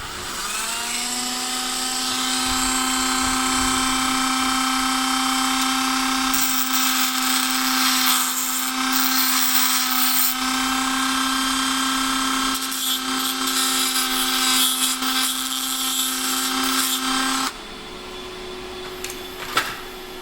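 A small power tool buffs a custom key pin, whining at a high, steady pitch for most of the stretch with fluctuating grinding texture as the piece is worked, then stopping near the end, leaving faint handling clicks.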